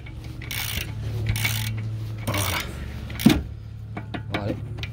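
A flat screwdriver wedged against the brake disc holds it while a wrench unscrews the cardan nut on a Mercedes-Benz A-Class, giving several close scraping, rasping turns with short pauses and a sharp metallic clack midway.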